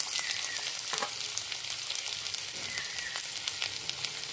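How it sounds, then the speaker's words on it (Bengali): Chopped green chilli, garlic and ginger fry in oil for restaurant-style dry chilli chicken, a constant soft sizzle with a few faint stirring taps, quiet and close, with nobody talking. "এগুলো সব তেলের মধ্যে দিয়ে দেবো।"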